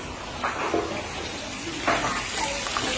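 Tap water runs steadily into a sink while food is rinsed clean under it in a home kitchen. Brief splashes and clatters rise over the constant close hiss of the stream.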